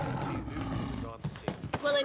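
A lion roars in a movie scene, a rough, rumbling growl that swells and breaks up, followed by short voice-like bursts near the end.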